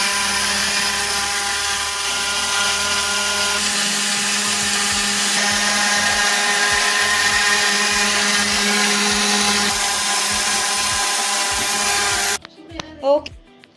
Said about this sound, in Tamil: ட்ரை கிரைண்டிங் பண்ணிட நல்ல ஃபைன் பவுடராக வேணும்னா இந்த பல்ஸ் மோட் ஆன் பண்ணிக்கலாம்.